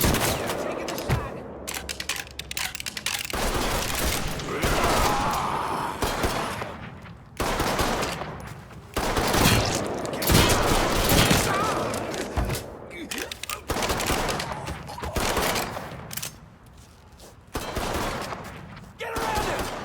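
Sustained gunfire in a Mafia 3 shootout, with bursts of rapid automatic fire and scattered single shots rolling on and off across the clip, loud and dense, with short lulls between volleys.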